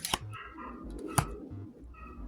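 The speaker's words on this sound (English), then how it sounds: "I'm sorry about that damn dog in the background." A dog barks in the background, giving two sharp, short barks spaced about a second apart, with a few softer yips and whimpers under a quiet room tone.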